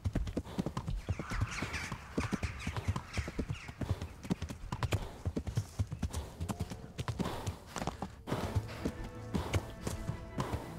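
A horse gallops in the video game Kingdom Come: Deliverance, its hooves pounding in a fast, continuous clip-clop rhythm, loud and close, with no talking.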